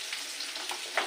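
Shrimp fry in a pan with a steady, soft sizzle and a faint stirring scrape near the end, brief and alone without speech.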